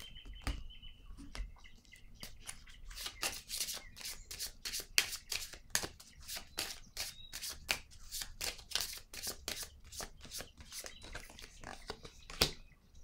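Playing cards are laid one after another onto a table, a run of crisp close flicks and snaps in an uneven rhythm over a quiet room, with faint bird chirps in the background.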